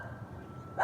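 A dog barks in the background, a few soft, distant woofs in quick succession with no talking over them.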